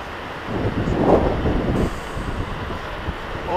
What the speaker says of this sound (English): Oh, it's windy. It's like a wind tunnel here.